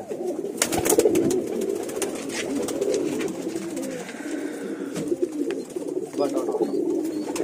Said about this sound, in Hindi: ये प्योर कमग्गर कबूतर है